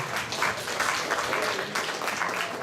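A room full of people applauding, steady clapping from a crowd at moderate volume.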